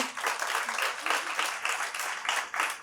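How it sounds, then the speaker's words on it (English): An audience at a closing keynote of an arts and code festival claps in a lively round of applause, with rhythmic swells of many hands at moderate distance and no speech over it. "I want to start off with you all giving an applause to your parents and your family for bringing you here."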